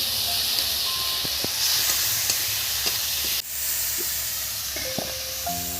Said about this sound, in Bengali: এবার মাছগুলো এর মধ্যে দিয়ে দিচ্ছি।